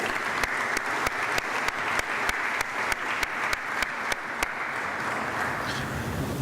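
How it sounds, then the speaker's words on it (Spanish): Conference audience applause in a hall, a dense, even patter of many hands with a few sharper individual claps standing out in a regular beat, moderately distant and steady throughout. "un aplauso para ellos, por favor"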